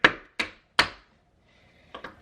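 Tap dance shoes strike a hard floor in a slow syncopated toe stand, three sharp separate clacks followed by a pause and two quicker, lighter taps, close and clear without speech.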